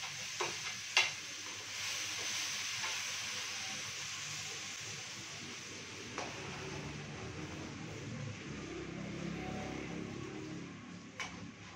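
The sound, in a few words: garlic being sautéed in a pan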